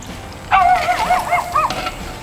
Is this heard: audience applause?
no